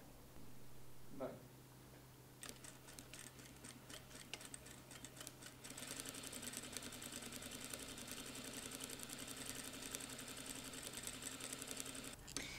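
A sewing machine stitches a seam on a bijoux holder, starting with a low hum and then running a steady, fast mechanical clatter up close for several seconds.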